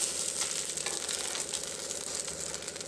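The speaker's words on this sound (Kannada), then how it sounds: "ಎಷ್ಟು ಬೇಗ ಬೆಂದು ಬರುತ್ತೆ ಅಂತ ತೋರಿಸ್ತೀನಿ ನೋಡಿ" Neer dosa batter cooks on a hot pan. A steady sizzle and crackle of frying continues close and even throughout the short stretch, with no voices over it.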